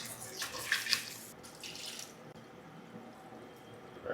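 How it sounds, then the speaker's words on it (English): Rice washed in a pot or bowl at home during a hurricane, a continuous swishing, trickling water sound with small splashes and drips, steady and close, no talking. "Go wash your rice. Let's wash this rice"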